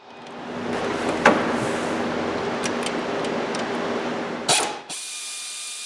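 A hand ratchet loosens the thermostat housing bolts on a Chevy Silverado engine, giving a fine continuous clicking with a sharper clack near the start and a louder metallic knock near the end.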